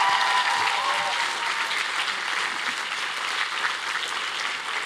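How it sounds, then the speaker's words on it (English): Sustained audience applause fills a dinner hall at a college commencement-eve gathering, a dense, steady wash of many hands clapping at even loudness throughout, with no speech over it. "So please give them a round of applause."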